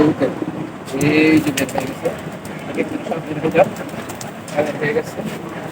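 Racing pigeons cooing in a loft before release, soft burbling coos and wing shuffles close by under steady conversational talk, with small bumps and rustles throughout.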